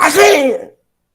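A single loud, close sneeze, a short burst that drops abruptly into silence.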